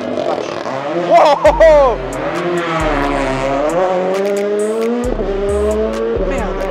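A WRC rally car at the Monte-Carlo Rally revs hard with loud wavering engine tones and tire squeal, while spectators talk and exclaim close by over the noise.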